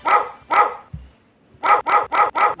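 Dog bark sound-effect drops: two sharp barks, a brief pause with a low thump, then a rapid run of four or five loud barks in close succession.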